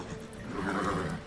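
Roach, the horse in The Witcher 3, lets out a brief, fairly faint neigh that rises and falls within about a second.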